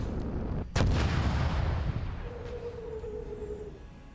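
A video game missile launch and explosion: one sharp, loud blast followed by a rumbling decay and a brief whistling tone, with no talk.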